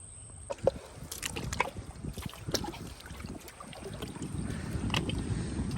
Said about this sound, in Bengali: আমরা চলে এলাম কিন্তু নদীর পাড়ে নৌকোটাকে ঠেলে ঠেলে নিয়ে